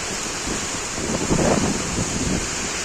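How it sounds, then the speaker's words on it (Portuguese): Heavy rain pouring outside on a rural property, a dense, continuous wash of noise that stays loud and steady throughout, with some low rumble from wind or runoff underneath. "Chove lá fora e a área enche de água."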